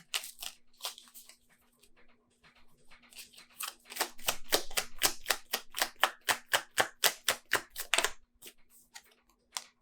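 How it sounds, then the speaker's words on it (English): Tarot cards shuffled and drawn: a few scattered card flicks, then a rapid even run of crisp slaps as the deck is shuffled, close and clear, over a faint steady hum with no talking. "Let's get some clarification cards here"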